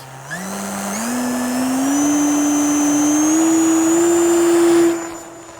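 Electric motor and propeller of a Durafly FG-1 RC plane running up close and loud, a whining tone that steps upward in pitch over several seconds, holds steady, then cuts off sharply near the end.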